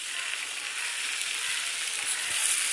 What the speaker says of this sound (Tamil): நெய் ஊற்றி அந்த பிரெட் ஸ்லைசஸ் எல்லாம் இதில் போட்டுட்டு